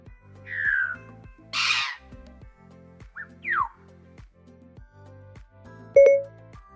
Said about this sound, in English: Here's an African grey parrot.